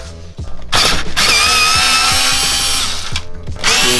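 A power driver whirs loudly in two long bursts with brief pauses, undoing the indicator reflector holder screws on a B8.5 Audi A5/S5/RS5 headlight trim, with small mechanical clicks between runs.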